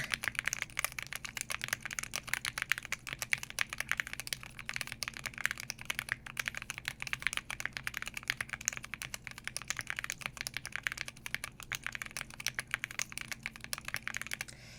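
Fast typing on a mechanical computer keyboard in an ASMR setting, a close, continuous stream of crisp clicky keystrokes with no talking.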